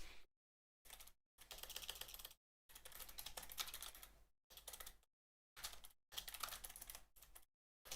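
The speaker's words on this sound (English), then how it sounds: "Typing this out so for later reference when we do the replays." Someone types on a computer keyboard in quick bursts of rapid key clicks, separated by short silent pauses, close and fairly quiet, with no talking.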